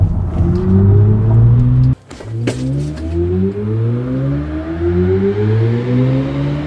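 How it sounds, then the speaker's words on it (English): A BMW i4 M50 electric car plays its synthesized drive sound designed by Hans Zimmer, a loud layered tonal hum with rising, sliding pitches as the car accelerates, briefly dipping before swelling again. "you will love the sounds that this thing makes because Hans Zimmer himself designed the score."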